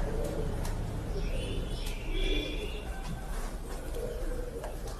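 Pigeons coo softly inside a home loft, with low, repeated coos and a few faint chirps over a steady, hissy room noise, and no one speaking.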